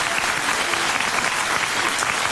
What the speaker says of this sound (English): Clap if you would have left her.